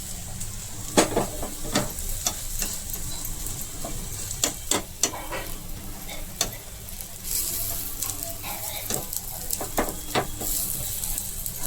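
Protein chilla batter frying in a pan as a little oil is drizzled around it, a steady soft sizzle close by with scattered sharp ticks and pops of spatula and spattering oil throughout.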